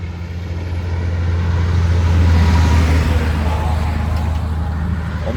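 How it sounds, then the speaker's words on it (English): Cars driving by on a street during an outdoor walk, a steady loud roadway rumble that swells and fades across the stretch with no voices. "these cars going by out here on my little walk"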